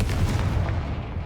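Confringo fire spell exploding in the video game Hogwarts Legacy: a single loud, booming blast with a short rumbling tail, heard on its own with no talk.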